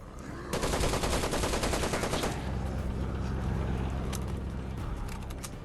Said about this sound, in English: We have also added the good old MG42, along with an overheating system that requires changing the barrels if you shoot for too long.